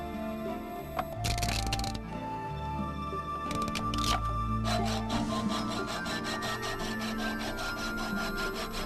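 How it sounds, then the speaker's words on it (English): Outer steel armour wires of an underwater fiber-optic cable from Lake Sils being cut, with rasping, scraping strokes in several bursts over a steady tonal hum in the background. "The outer steel wires are cut halfway and then broken off."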